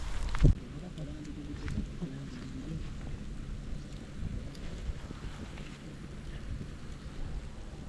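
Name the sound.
strong wind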